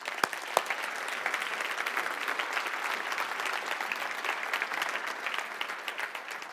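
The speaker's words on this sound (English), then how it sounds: "deserves a round of applause" Conference audience applauding during an opening session, a steady, dense burst of clapping from a large room, sustained throughout with a couple of sharper claps at the start.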